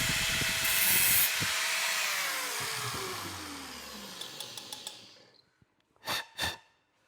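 A power tool whines loudly while cutting a bathroom plumbing fitting, the pitch sliding down as the motor winds down over a few seconds, followed by a few small clicks and two short taps near the end.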